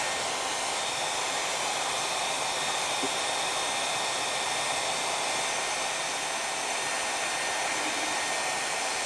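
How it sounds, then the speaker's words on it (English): A household vacuum cleaner runs indoors with a steady, loud, unbroken whoosh of motor and airflow that holds level from start to finish, with no talking over it. "I got a vacuum in here like there's no tomorrow."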